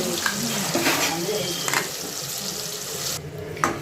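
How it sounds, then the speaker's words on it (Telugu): Masala sizzles steadily in a hot pan for a crab curry, a dense, continuous hiss with a few scraping stirs scattered throughout, close and loud with no talking. "ఇప్పుడు మసాలాని మనం వేసుకొని బాగా ఫ్రై చేసుకుందాం."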